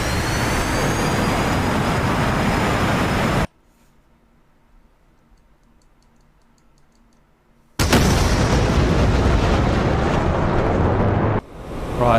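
Bomb explosions in a flight combat game imagining an Su-57 with nuclear-tipped missiles over Operation Barbarossa: a loud, sustained roaring blast that cuts abruptly to near silence for about four seconds, then erupts again with heavy rumbling.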